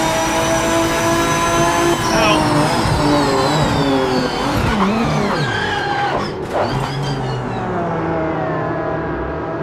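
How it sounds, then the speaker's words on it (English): Race car engines scream and shift in the racing game Project Motor Racing, loud revving notes rising and falling as cars pass close, with tyre noise and brief downshift bursts throughout. "They thought the cars didn't sound good."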